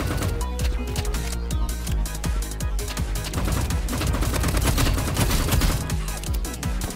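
An assault rifle fires in Roblox Rivals: dense, continuous volleys of rapid shots with thumping impacts, loud and close, running without a break and with no speech over it.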